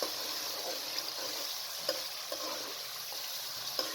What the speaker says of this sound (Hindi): 5 से 7 मिनट तक आपने ऑयल के अंदर कलेजी को अच्छी तरीके से फ्राई कर लेना है